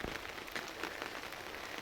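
Light rain falls steadily on a village garden full of seasonal flowers, a soft close patter of drops with no voices.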